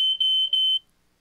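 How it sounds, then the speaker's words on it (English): A smoke alarm sounds loud, shrill beeps in quick succession, close by, then cuts off into silence. "So we've got the actual smoke alarm here."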